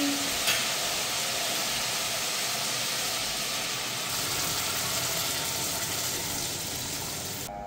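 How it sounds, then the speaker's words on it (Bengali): Steady, loud sizzling and bubbling hiss of water poured onto fried spice paste in a hot pan, continuing without pause; no voices. "মশলাটা কষানো হয়ে গেছে, এখন আমি জল দিয়ে দিচ্ছি।"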